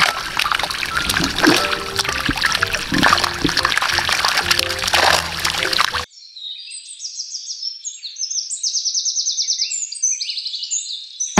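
Water splashes and pours as milkfish fry are moved from a net into a fishpond, a dense splattering wash for about six seconds, then giving way to chirping birds and quieter trickling; no one speaks.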